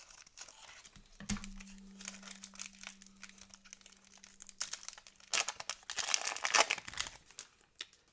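Plastic Pokemon card blister pack being worked open by hand, with crinkling and tearing plastic in uneven bursts, faint at first and louder crackling near the end, against a low steady hum.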